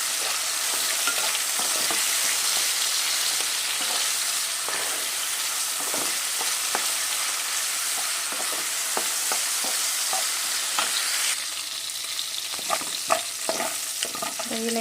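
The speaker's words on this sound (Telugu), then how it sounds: "రొయ్యలు అయితే మనకి మంచిగా ఫ్రై అయిపోయినాయి" Prawns with turmeric and salt fry in a kadai, giving a loud, steady sizzle close up with scattered stirring clicks and scrapes throughout, no voices.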